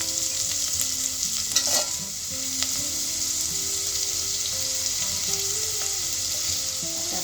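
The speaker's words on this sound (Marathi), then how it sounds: "तेल तापल्यावर आपण त्यात कांदा घालू। कांदा छान मऊ होईपर्यंत परतून घ्यायचा आहे आपल्याला।" Onion fries in hot oil in a pan, a continuous hissing sizzle with occasional stirring scrapes, steady and close, with no talking.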